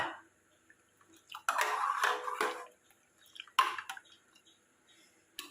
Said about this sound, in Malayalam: നമുക്കിനി ഇത് പാത്രങ്ങളിലേക്കൊന്ന് പകരാം